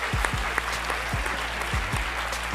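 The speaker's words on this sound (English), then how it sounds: "Let's have a round of applause for Shobha and Kangana, please." An audience claps steadily in a dense, continuous patter of applause for two performers, moderately loud with no voices rising above it.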